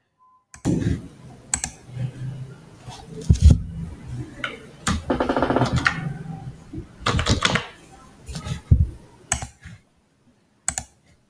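Keystrokes on a computer keyboard entering a Linux process-listing command, a string of close, crisp clicks in short bursts with pauses between them and no talking.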